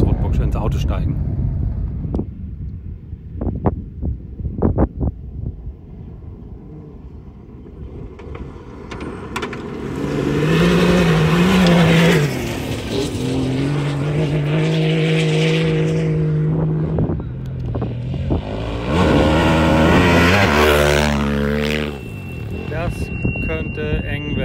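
A Dakar Rally car engine roars and climbs through the gears in rising sweeps, loud and close, with wind buffeting and a voice speaking early on.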